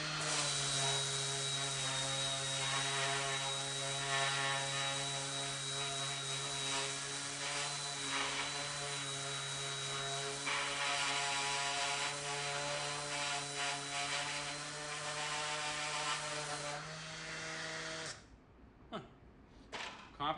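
A DEWALT 20V MAX cordless orbital sander runs at mid-speed on a piece of white oak, a steady close whirring hum with a sanding rasp that holds for about seventeen seconds, then switches off and winds down.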